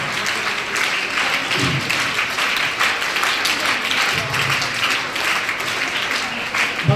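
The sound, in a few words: applause by schoolchildren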